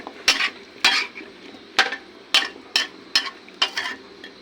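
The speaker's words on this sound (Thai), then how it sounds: "ใส่ฟักลงไปผัดค่ะ ผัดให้เข้าเนื้อ" Winter melon is stir-fried with curry paste in a pan for a Thai chicken curry, with about eight sharp spatula scrapes and clanks in a steady rhythm over a faint sizzle.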